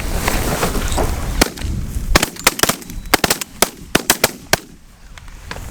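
Series of sharp shotgun blasts from a bird hunt outdoors, a few scattered shots followed by a quick volley of loud, close reports, one after another, with no talking.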